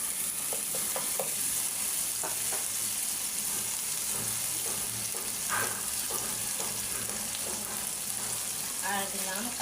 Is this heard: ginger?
yes